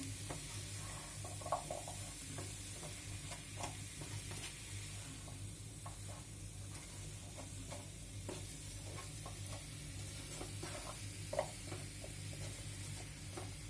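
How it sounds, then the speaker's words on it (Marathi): Pumpkin sabzi sautéing in a pan, a quiet, steady sizzle with frequent light spatula stirs and occasional sharper clinks, close but faint, with no one talking. "व्यवस्थित परतून घेऊया"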